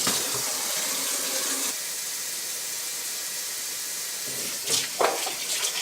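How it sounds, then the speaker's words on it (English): Cold water runs steadily from a kitchen sink tap during home beer brewing with a Mr Beer kit, a continuous close hiss that briefly shifts and splashes as something moves under the stream. "we're going to do that with really cold water, and luckily from our sink we have very cold water"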